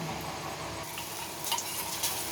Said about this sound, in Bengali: এবার কড়াইতে ম্যারিনেট করে রাখা মাংসগুলো সব দিয়ে ভেজে নেব।